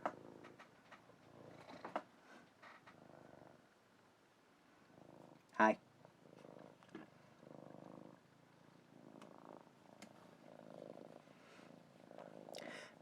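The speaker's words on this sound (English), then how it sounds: "Maybe some purring ASMR." A male cat purring close by, a soft steady rumble running under intermittent talk and a brief loud knock partway through.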